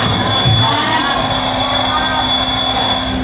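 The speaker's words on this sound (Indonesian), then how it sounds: "Alarm. Iya, dan alarm yang berasal dari jam." An alarm clock rings with a steady, shrill electronic tone that holds high pitches without pause, loud and close, over a faint background of room noise.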